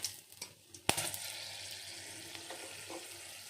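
Whole cloves and cardamom sizzle and crackle in hot oil in a pan after a sharp clink, a steady frying hiss that slowly settles, with a few small taps and stirs.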